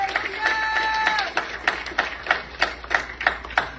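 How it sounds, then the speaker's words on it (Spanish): Applause at a quinceañera mass for Valeria, the girl being celebrated, as a congregation claps in a steady burst of sharp, close hand claps. A brief tonal note rings near the start. "¡Un aplauso a Valeria!"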